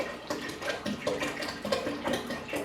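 Filtered water is poured into a brewing pot already holding about a gallon, a soft, uneven splashing and gurgling with irregular bursts, fairly quiet and close.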